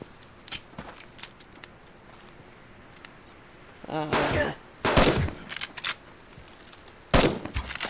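Gunfire in the survival video game Subsistence: a few loud, sharp shots in separate bursts, one around the middle and another near the end, over quiet ambient game sound.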